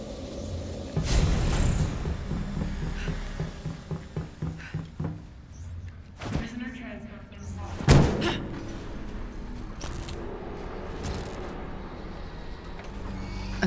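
A heavy door opens in the Marvel's Avengers video game, with mechanical thuds and a clunking slam over a droning game ambience and scattered patter.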